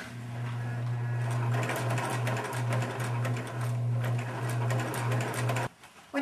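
A sewing machine runs steadily stitching the seam of a banded panel curtain, a loud continuous motorized whir that stops abruptly near the end.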